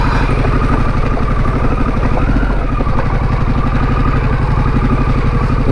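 A Harley-Davidson Pan America 1250 motorcycle in road mode picks its way down a steep off-road slope, its engine giving a steady, loud, throbbing low rumble with a fast regular pulse throughout and no talking.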